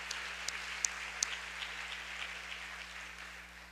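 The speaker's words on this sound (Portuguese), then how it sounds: "aplauda Ele nesta noite" A congregation at a church service applauds, a soft, thin patter of clapping with a few sharper individual claps standing out near the start, fading gradually toward the end, with a low steady hum underneath.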